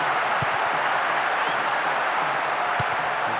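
Stadium crowd noise from the football video game Winning Eleven 2008, a steady, loud wash of cheering and chanting that never lets up, with a couple of brief low thumps.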